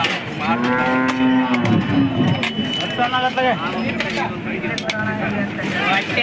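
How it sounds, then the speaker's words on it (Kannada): Cattle moo loudly and repeatedly at a Thursday livestock market in Hosadurga, their long lowing calls overlapping close by while people talk in the background. "ದನಗಳ ಸಂತೆಯಲ್ಲಿ"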